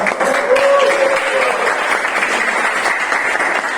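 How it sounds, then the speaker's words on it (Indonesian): A classroom audience applauds a first-place winner during a lecturer's teaching demonstration, steady dense clapping that fills the whole stretch at a fairly loud, even level. "Kita kasih aplaus."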